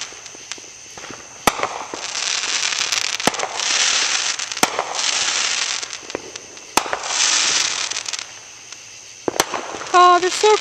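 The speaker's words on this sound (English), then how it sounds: "Oh, look, more fireworks." Fourth of July fireworks going off, sharp loud bangs at irregular intervals between longer stretches of crackling bursts and hissing, with a voice speaking briefly near the end.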